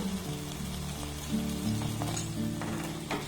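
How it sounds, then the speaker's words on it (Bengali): Chhena being stirred with condensed milk in a pan over a low flame, giving a steady soft sizzle with scraping and stirring sounds throughout, close and unaccompanied by speech. "এবার গ্যাসের ফ্লেমটাকে লো রেখে এটাকে কন্টিনিউ এইভাবে নাড়াচাড়া করবেন"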